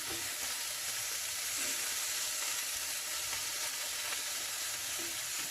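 Pieces of beef browning in a hot pan for a slow-cooker beef stew, giving a steady, even sizzle and crackle of frying with no break and no talk.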